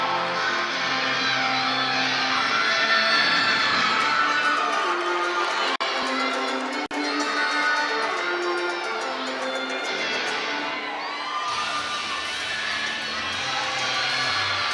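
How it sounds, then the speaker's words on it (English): Gymnastics teammates cheering from the sideline at a college meet, a continuous loud mix of shouts and crowd noise in a large arena, with voices rising and falling throughout. "You can see her teammates cheering for her on the side."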